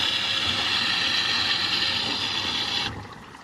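Water rushes and drains through a large micro hydro housing box in a loud, steady broadband wash that drops away sharply near the end as the flow shuts down, with no voices.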